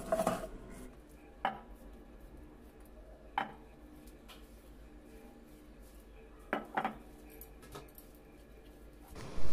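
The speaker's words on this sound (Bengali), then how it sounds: "কালো আর হলুদ সর্ষে, আর নিয়েছি পোস্ত, 2টো কাঁচা লঙ্কা, সামান্য নুন হলুদ দিয়ে শিলে বেটে নেব" Black and yellow mustard seed, poppy seed and green chili ground on a flat grinding stone, a quiet scraping background broken by a few sharp knocks of stone on stone, close and sparse.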